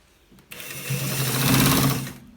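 A sewing machine stitches the end of a shirt collar in one short close run, its motor whirring up, holding steady and then stopping.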